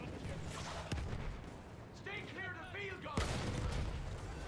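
Cannon and gunfire booms in the video game Battlefield One, with sharp blasts punctuating a dense, rumbling battlefield background, partly overlapped by brief vocal sounds midway.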